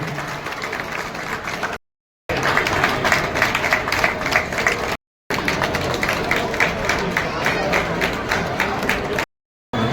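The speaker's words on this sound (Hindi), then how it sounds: "तालियां बजती रहे।" A crowd claps steadily at an outdoor Ramlila performance, with dense, continuous applause close and loud. It is broken by a few short silent gaps, and faint voices sit underneath.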